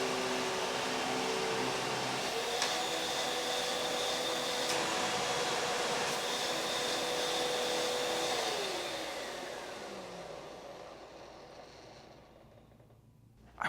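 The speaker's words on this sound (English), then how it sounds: "I think it's probably best to recline the machine and then turn it on" A Hoover WindTunnel 2 U8351 900 upright vacuum cleaner runs with a steady, loud motor whine and a high tone, then winds down gradually toward the end, alone with no talk.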